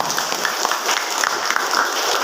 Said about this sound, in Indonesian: tepuk tangan dulu dong buat kita semua